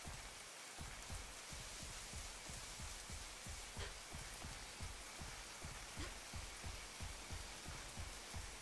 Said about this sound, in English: the ambience in this game is amazing. Like the rain sound